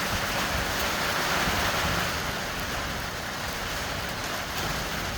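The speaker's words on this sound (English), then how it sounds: "Here's the rain and the wind." Rain and wind outdoors by a wok burner setup, a steady loud broadband rush and patter that continues unbroken throughout with no talking.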